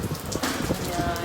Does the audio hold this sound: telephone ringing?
no